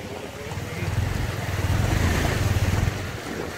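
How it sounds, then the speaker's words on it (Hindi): A car drives through a water crossing on the Zojila Pass road between Ladakh and Srinagar, with a low, churning rumble of engine and splashing water that swells and stays steady before easing off. "देखो जैसे कि गाड़ी अभी वाटर क्रॉस कर रही है"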